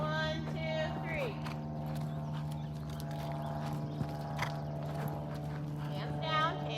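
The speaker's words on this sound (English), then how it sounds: "Choose a faster canter." Horse hooves clip-clopping at a canter during a riding lesson, a steady rhythmic beat heard over a continuous low hum, with an instructor's voice and a brief whinny-like call nearby.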